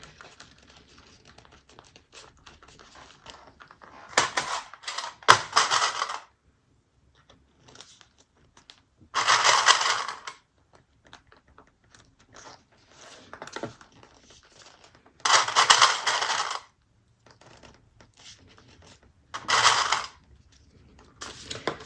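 Sewing machine stitching around the raw edges of a fabric clutch bag in short bursts of rapid mechanical whirring, each a few seconds long, separated by quiet pauses with faint handling noises, close and clear, no talking.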